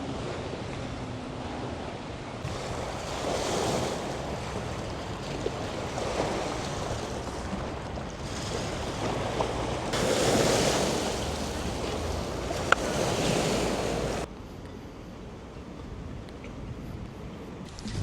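Waves and wind are heard from a boat on Lake Geneva, Switzerland: a broad wash of water with gusts that swell and fade, then the sound drops quieter near the end.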